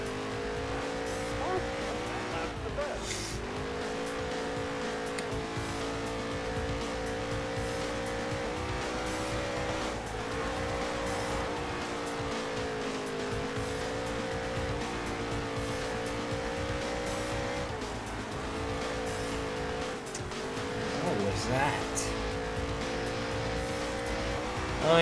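A race car sliding on dirt in NASCAR Heat 3, its engine droning steadily with pitch shifts and bursts of tire skidding, loud and continuous for the whole stretch, with occasional talk over it.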